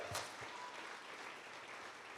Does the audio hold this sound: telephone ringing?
no